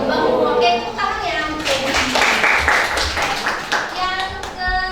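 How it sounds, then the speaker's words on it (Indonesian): A classroom of students claps hands together after a teacher's prompt during an Indonesian biology lesson, a dense, lively burst of applause lasting several seconds with children's voices mixed in. "Oke, tepuk tangannya."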